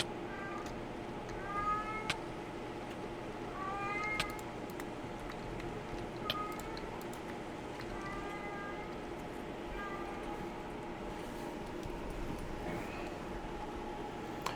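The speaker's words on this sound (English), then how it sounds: "As you can hear my cat in the background." A pet cat meows repeatedly in the background, short plaintive calls every two seconds or so, faint and somewhat distant over a steady hum of room noise.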